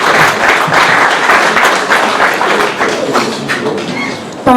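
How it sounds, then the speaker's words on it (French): Audience applause at a celebration of young graduates in Vieux-Habitants, Guadeloupe: dense, steady clapping from a crowd that fills the room, loud and sustained before thinning slightly near the end. "On applaudit."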